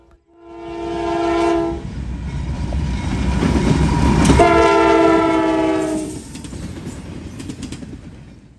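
Norfolk Southern 177, an intermodal and manifest freight in southwest Ohio, sounds its horn in two loud blasts, then rumbles past with clattering wheels that fade toward the end.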